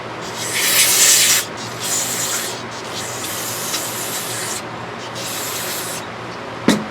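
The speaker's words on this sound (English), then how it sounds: "There's a little nylon brush. We'll do it with some brake clean and scrub her off a little." Brake cleaner sprayed onto the carburetor of a Briggs & Stratton GenPower 10 HP generator, then scrubbed with a small nylon brush, heard as bursts of hissing spray and steady rubbing strokes at close range, with a sharp knock near the end.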